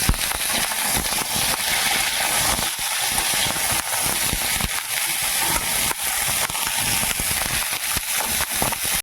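Cauliflower and pumpkin frying in a little oil for winter vegetable khichdi, a steady loud sizzle and crackle with bright hiss and small spitting pops, close and continuous without talk.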